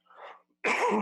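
A short sharp sneeze, preceded by a soft breathy intake, close and loud.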